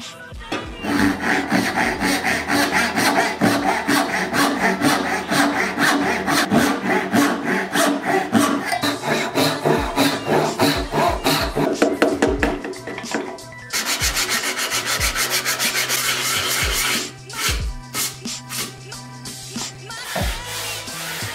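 Wooden edges are shaped into a chamfer with a hand tool, giving rapid repeated rasping and rubbing strokes, loud and close, with a few short pauses between passes.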